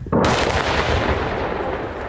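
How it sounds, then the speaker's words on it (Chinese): A Russian KH-31 tactical missile explodes on impact about 600 metres away in a wartime air strike, a single loud blast followed by a rumbling, decaying roar, heard alone. "俄罗斯 KH-31 战术飞弹600公尺外落地爆炸"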